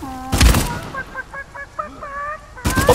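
Chicken clucking in the video game Uncharted 4 multiplayer, a run of quick squawking clucks between two loud gunfire-like bursts.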